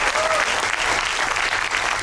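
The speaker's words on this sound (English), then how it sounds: "let's give them a huge round of applause" A large audience claps loudly and continuously for performers at an evening show, a thick steady wash of applause throughout.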